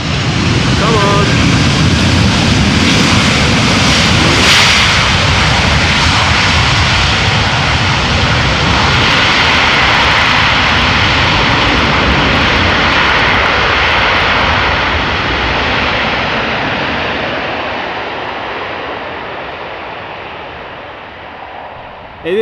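A Schiphol airliner roars down the runway at takeoff power with its nose wheel lifted, a loud sustained jet rumble that slowly fades over about twenty seconds as an excited voice talks over it.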